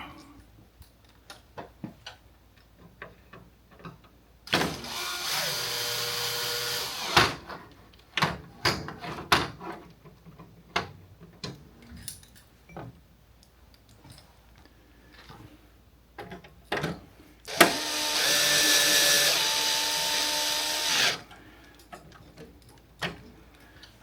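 Work inside a Ricoh c5200S copier: scattered sharp ticks and clicks of screws and parts being handled, with two longer loud whirring drive runs in between, close and without talk.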